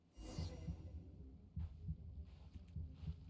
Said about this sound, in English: I like this heartbeat effect that's going on.